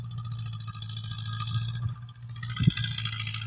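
A Mahindra 575 single-clutch tractor with a 7-foot rotavator runs in a field, its engine holding a steady, close, continuous drone with a brief louder clatter near the end.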